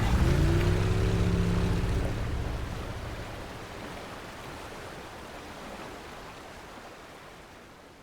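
A boat engine runs at full throttle in the video game Yakuza, a low droning roar with a whine at first that settles into a broad rushing wash of water and wind, gradually fading.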